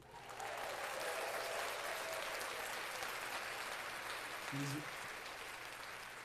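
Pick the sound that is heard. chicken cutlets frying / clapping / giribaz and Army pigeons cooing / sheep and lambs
clapping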